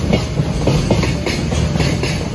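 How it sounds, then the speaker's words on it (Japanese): An EF210 electric locomotive hauling a freight train pulls out at night, a close, loud, steady clickety-clack of wagon wheels rolling over rail joints in a regular rhythm, with no voices. "EF210 牽引の貨物列車が出発をしてきます"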